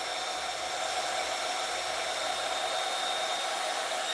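A heat tool blows steadily as it warms embossing powder on handmade cards, a continuous airy whoosh that holds an even level throughout with no speech over it.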